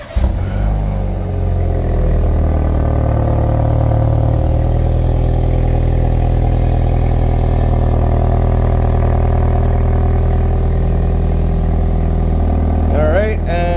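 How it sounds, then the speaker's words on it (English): Remote cold start of a 2023 BMW X3 xDrive30i four-cylinder engine: the engine catches and settles into a loud, steady idle hum held close throughout, with a brief clatter near the end. "that sounded pretty great for a four-cylinder"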